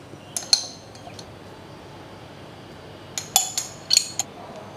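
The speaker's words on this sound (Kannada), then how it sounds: "ಈಗ ನಾನು ಈ ನೆಲ್ಲಿಕಾಯಿಗಳನ್ನೆಲ್ಲ ಈ ಪಾತ್ರೆಗೆ ಹಾಕ್ಕೊಳ್ತಾ ಇದ್ದೀನಿ" Salted gooseberries dropped into a dry metal vessel for pickling, giving a few sharp metallic clinks and taps in two short bursts, close, separated by a quiet pause.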